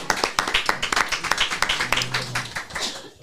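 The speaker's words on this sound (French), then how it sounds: "On applaudit Farid." A small group claps fast and unevenly for a few seconds after a stand-up comedy set, close by, the claps fading out toward the end.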